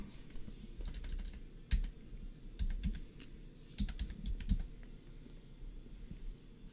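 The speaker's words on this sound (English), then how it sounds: "I'm just making sure I'm typing it right." Typing on a computer keyboard, with bursts of quick key clicks in uneven runs and pauses between them. It is close and fairly quiet over a low background hum, and no one speaks.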